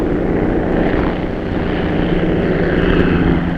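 A Bell propeller airplane on a wartime factory test flight drones loudly and steadily, a dense low engine roar with propeller buzz that swells slightly and stays constant throughout, with no voices.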